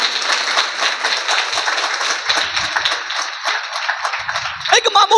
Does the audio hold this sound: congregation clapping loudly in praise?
yes